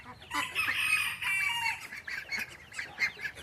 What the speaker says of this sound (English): Got a rooster over there.